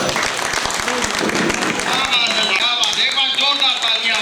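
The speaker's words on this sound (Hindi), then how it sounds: "जोरदार तालियां" Applause from the audience at a Hindi poetry gathering (kavi sammelan) of a senior citizens' club, held on 26 January; loud, dense clapping that fills the room from start to finish, with crowd noise mixed in.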